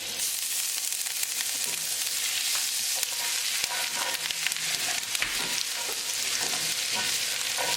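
Ginger and garlic frying in unsalted butter in a pan, a loud, continuous close sizzle with occasional stirring scrapes and no voices.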